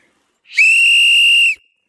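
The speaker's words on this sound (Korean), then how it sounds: "그래서 호루라기를 한번 불어보겠습니다" A single sustained whistle blast, loud and close, holding one steady shrill pitch for about a second before cutting off into silence, blown in the mountains to scare off wild animals such as boars.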